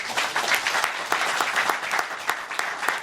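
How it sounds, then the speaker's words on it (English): A live radio audience claps in a show-of-hands style poll on a public-affairs talk program, steady scattered applause across the room with no voices over it. "Okay, clap if you think it's Goldilocks just about right."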